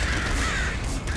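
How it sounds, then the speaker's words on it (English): A single bird caws in the video game Nuclear Throne, a harsh sustained croak lasting about a second over steady game background noise. "It's the sound of a bird"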